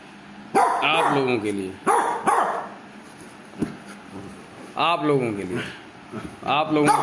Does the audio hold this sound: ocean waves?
no